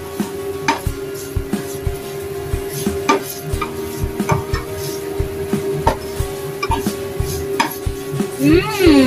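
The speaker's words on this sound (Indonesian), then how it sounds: "Oseng-oseng lagi. Sampai harum, guys." Beef skin (kikil) stir-fried with green chili in a pan, Javanese sweet-and-spicy style: a spatula scrapes and clinks against the pan in a steady rhythm of close, sharp strokes over a constant soft sizzle.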